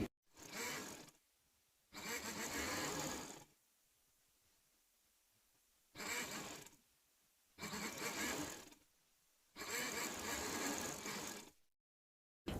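A sewing machine stitches lace onto a neck design in five separate bursts of steady, rapid whirring, each a second or two long, with quiet pauses between them.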